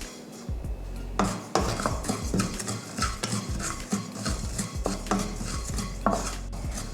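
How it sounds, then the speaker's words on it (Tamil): Cumin seeds are dry roasted in a pan for rasam powder while a spoon stirs and scrapes, giving irregular metallic clanks and scraping rattles close by, with no talk. "சீரகத்தையும் நல்லா வறுத்தாச்சு"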